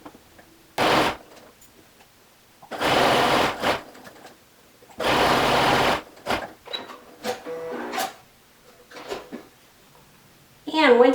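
A sewing machine stitches the waistline seam of a tiered gathered dress in several short bursts of fast, steady whirring, separated by pauses filled with fabric handling and small clicks.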